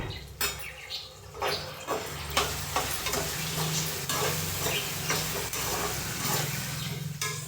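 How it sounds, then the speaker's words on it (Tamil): Small onions stirred and frying in a pan for pirandai thuvaiyal, with tamarind and turmeric added: steady close sizzle with scraping stir strokes repeating every second or so throughout, no talk. "சின்ன வெங்காயம் நல்லா வதங்கணும்."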